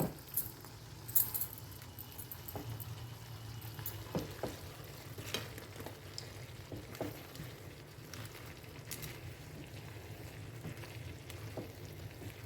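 Papad curry stirred slowly in a pan, a soft spoon scraping over a low steady simmer with occasional faint clinks, fairly quiet and without voices.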